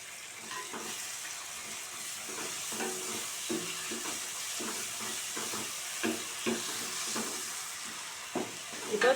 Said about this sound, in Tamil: இஞ்சி பூண்டு பேஸ்ட்டு சேர்த்துக்கிறேன்.